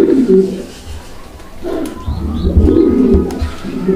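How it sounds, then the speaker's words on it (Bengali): Pigeons at a breeding farm coo in repeated soft, throaty rolls, close by and clear, with a few faint chirps and rustles among them. "তো দর্শক কবুতরগুলো দেখেন আপনারা"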